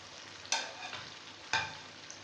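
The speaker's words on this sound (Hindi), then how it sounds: "अब हम टमाटरों को चिकन के साथ खूब मिक्स करेंगे, भुनाई करेंगे इनकी।" Chicken and tomatoes fry gently in a karahi, with a soft sizzle under two distinct spoon scrapes about a second apart.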